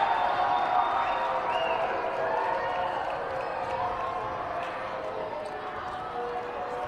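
Crowd applause and cheering from the stands at a women's college basketball game between MSU Billings and Western Washington, a steady broadband roar that stays fairly loud throughout.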